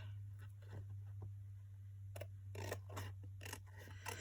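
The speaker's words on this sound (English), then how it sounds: "I'm just going to trim around it" Scissors snip through paper to trim around a photo, a run of close, crisp cuts that start sparse and then come in quicker clusters over a low steady hum.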